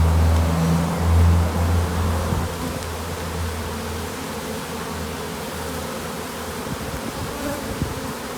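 Honey bees swarm around an open beehive in February, a dense, loud, continuous buzz close by with a low droning hum throughout.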